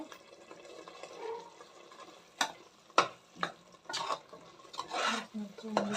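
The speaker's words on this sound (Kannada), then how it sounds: "ಚೆನ್ನಾಗಿ ಉರಿಬೇಕು ಸ್ನೇಹಿತರೆ ಎಣ್ಣೆ ಬಿಡೋವರೆಗೂ ಚೆನ್ನಾಗಿ ಉರಿಬೇಕು" Ground masala frying in oil for rice bath gives a soft, low sizzle broken by intermittent spoon scrapes and stirring knocks, fairly quiet and close.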